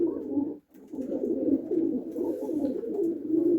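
Steady, low pigeon cooing goes on throughout with only a brief pause near the start, fairly close, and nobody speaks.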